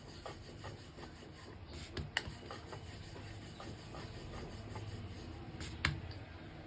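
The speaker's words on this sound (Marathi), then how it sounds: "तर आपण अशी पोळी लाटून घेणार आहोत" A rolling pin rubs back and forth over dusted samosa dough on a board, giving quiet, repetitive scraping strokes with a few light knocks, close by and without talk.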